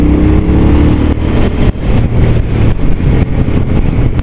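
A KTM 790 Duke motorcycle engine pulls hard on a road past cars, a loud, close roar that starts with a tonal drone and then turns rougher and broader as it accelerates.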